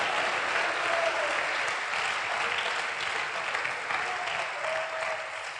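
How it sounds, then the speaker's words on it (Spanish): Congregation applauding in a church service, steady broadband clapping from a large crowd filling the whole stretch without pause. "Denle un fuerte aplauso al Señor ahora"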